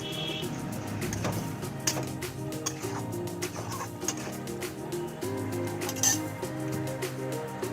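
A spoon stirs cashew paste into potato curry in a pan, making repeated light clinks and scrapes against the metal over a low background murmur.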